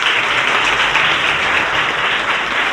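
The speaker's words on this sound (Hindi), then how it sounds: "चलिए एक बार फिर से तालियां होना चाहिए।" An audience at an education charity event gives loud, close, continuous applause, with dense, even clapping and no break.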